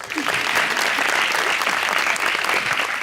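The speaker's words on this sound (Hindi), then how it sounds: "उनके लिए भी तालियां।" Audience applause for a talk-show guest's husband, a dense burst of clapping from a studio crowd filling the whole moment, loud and steady.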